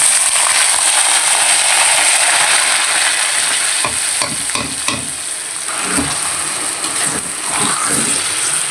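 Rice fries and is stirred in a pan with cardamom, bay leaf and cinnamon for pulao, under a steady, bright sizzle broken by repeated scraping stirs in the middle stretch.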